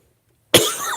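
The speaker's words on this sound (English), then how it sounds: "still have a bit of a cough" A single sharp, close cough bursts out after a moment of silence.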